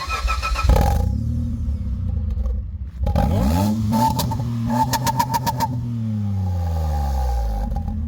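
A 3-litre car engine revs hard several times, the exhaust roaring up and settling back into a throaty idle, loud and close with no talking.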